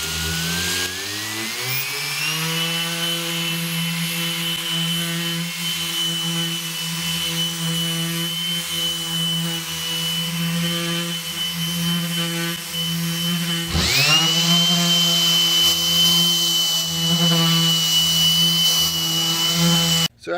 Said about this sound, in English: we'll go ahead and try it at various speeds